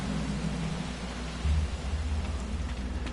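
Rain storm outside a base in the video game No Man's Sky, a steady hiss of rainfall with a low rumbling swell partway through, heard alone without talk.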